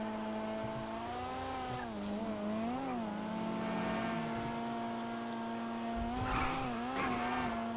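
Engine of a car driven in the GTA video game, a steady droning tone that rises and dips as the driver works the throttle, with a brief tire-squeal-like surge near the end, continuous and close with no talking.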